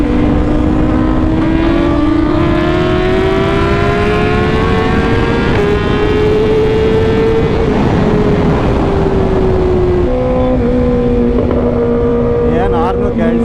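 Tuned Kawasaki ZX10R and BMW S1000RR sport bikes scream at full throttle, nearby and loud, with a steady high engine whine that drifts up in pitch and shifts gear. Heavy wind roar runs underneath the whole time.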